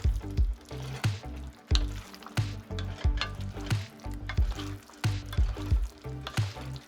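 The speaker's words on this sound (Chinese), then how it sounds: "依次加入炸好的肉块，过了油的蔬菜，还有凤梨块，把它们翻炒拌匀" Pork chunks, oil-blanched vegetables and pineapple pieces tossed in a wok over the lowest heat, coated in sweet and sour sauce: close, steady sizzling broken by repeated scraping strokes of a spatula, no voices.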